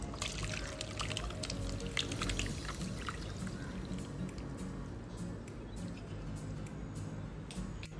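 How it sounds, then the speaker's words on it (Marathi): Plain water being poured from a container into a strainer of freshly strained chhena makes a steady, splashy trickle with small drips, running continuously and fairly close throughout. "ह्याच्यामध्ये थोडं नॉर्मल पाणी टाकायचं आपल्याला,"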